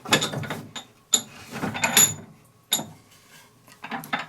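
Bench vise on a Craftsman rolling workbench worked by hand, giving a run of metallic clanks, ratcheting clicks and scrapes in close, irregular bursts with short pauses between.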